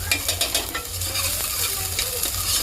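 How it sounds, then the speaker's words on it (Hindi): Dal frying fast in a pan in a home kitchen, a steady close sizzle with repeated scraping stirs that keep clicking through it. "इधर मैं दाल फ्राई कर रही हूँ फटाफट"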